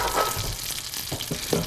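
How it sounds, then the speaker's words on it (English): Butter and peaches sizzle softly in a pan, a quiet steady crackle with small pops and faint stirring. "And that sizzling is the butter and the peaches, Sylviana?"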